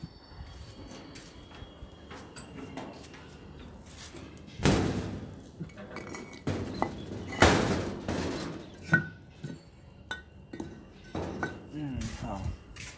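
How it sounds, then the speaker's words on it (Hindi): A door being fixed in a room gives loud slams and heavy thumps, the biggest hits near the middle, with scattered knocks and rattles around them; no one speaks. "एक मिनट रुको, इसको दरवाजे को ठीक कर देता हूँ।"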